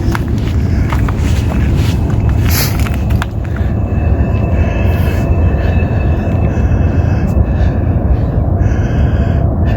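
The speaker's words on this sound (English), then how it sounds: "I hear a train, but I don't see it." A continuous, loud low rumble of a train near Garrison, New York rolls on throughout, steady and heavy with a faint high whine above it.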